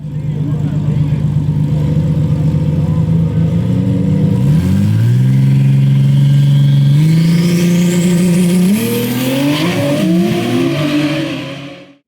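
A Toyota Supra MK5 drag car's engine roars loud and close, holding a steady drone before climbing sharply in pitch as it accelerates through the gears, then cutting off abruptly.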